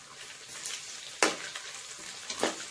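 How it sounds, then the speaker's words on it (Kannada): White sesame seeds sizzling in hot oil, a soft, faint crackle with a few sharper pops and a stir or two, heard alone without talking. "ಸ್ವಲ್ಪ ಎಳ್ಳು, ಬಿಳಿ ಎಳ್ಳು ಇದ್ರೆ ಹಾಕಿ ಇಲ್ಲದಿದ್ರೆ ಬೇಡ,"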